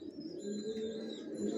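Racer pigeons in a loft coo softly and continuously, a low murmuring chorus with a few faint chirps layered over it, steady and close with no talking.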